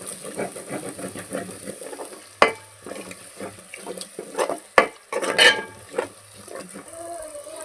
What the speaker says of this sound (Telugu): పెరిగేసాం కదా, ఒకసారి కలుపుకుందాం.